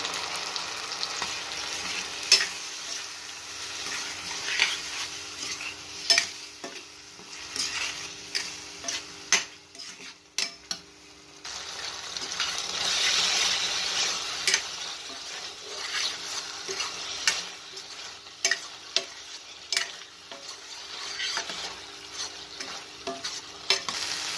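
Spice paste and tomato for a vegetarian potato curry fry in a pan with a continuous crackling sizzle, broken by frequent sharp ticks and scrapes of a spatula stirring against the metal; no voices.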